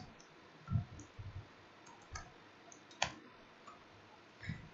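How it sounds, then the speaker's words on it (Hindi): Several sharp computer mouse clicks, separated by short pauses, ring out close and fairly quiet against a soft room background while images are opened on a PC. "टाइगर पे क्लिक किया और इमेज पे क्लिक कर दिया मैंने।"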